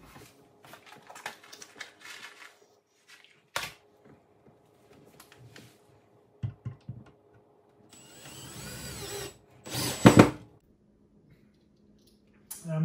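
A power drill drives drywall screws to mount a box, with a faint, scattered whir at first, then a longer motor run and a short, louder burst near the end, amid light handling knocks.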